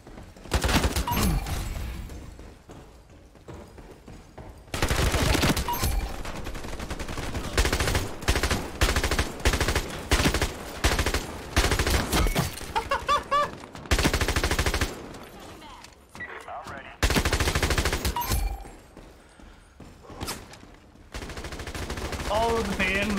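Gunfire in the video game Ironsight, a gun game match: loud bursts of automatic fire and rapid shots come in repeated clusters separated by brief pauses across the whole stretch, with no talking.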